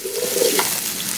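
Okra and green chillies frying together with spices in a hot pan, a steady close sizzle and crackle with no talk.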